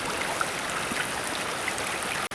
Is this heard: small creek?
yes